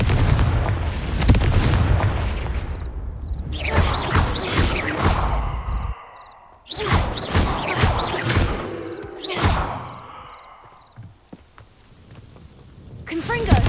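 Repeated Confringo blasting-spell explosions in Hogwarts Legacy: loud booming bursts with whooshing tails, arriving in clusters with short gaps, alongside a voice.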